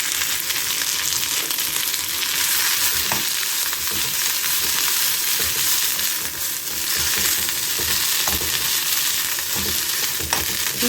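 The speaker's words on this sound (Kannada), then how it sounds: "ಇದಕ್ಕೆ ಮೆಂತ್ಯ ಸೊಪ್ಪು ಹಾಕ್ಕೊಂಡು ಮತ್ತು ಕೊತ್ತಂಬರಿ ಎರಡೂ ಚೆಂದಾಗಿ ಹುರ್ಕೋಬೇಕು" Fenugreek leaves and coriander fry steadily in a hot pan for a chutney, a dense continuous sizzle with occasional stirring scrapes, close and loud, no voices.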